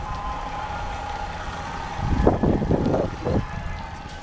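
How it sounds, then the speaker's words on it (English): An ice cream truck passes outside: a faint sustained tone holds throughout while a low engine rumble swells and fades as the vehicle goes by. "Here's another take of the ice cream truck again."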